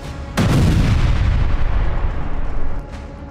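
Explosives set on a border fence detonate in one sudden, loud close blast, followed by a heavy rumbling roar and debris noise that lingers for a few seconds before cutting off, with no talk.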